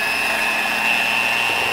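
Small drill running with a large chuck mounted through a shop-made adapter, a steady high-pitched motor whine with broadband hiss, close and continuous with no talk.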